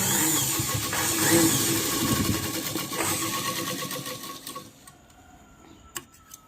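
A sewing machine runs in a loud, continuous rapid whir while stitching a petticoat, then slows and stops before a couple of small clicks near the end.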